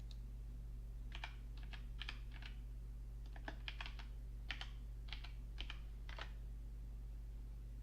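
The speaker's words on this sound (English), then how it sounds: "I'll type that down for you." Typing on a computer keyboard during a live stream, a quiet run of separate key clicks in short bursts, fairly close, over a steady low hum, with no talking.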